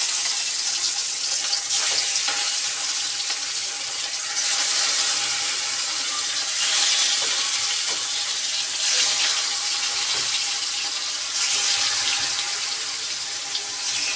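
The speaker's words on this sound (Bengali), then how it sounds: "মাছটাকে আমি এখন তেলের মধ্যে ছেড়ে দিব।" Snakehead fish coated in turmeric hisses and sizzles in hot cooking oil, a steady close frying noise that swells in waves every few seconds.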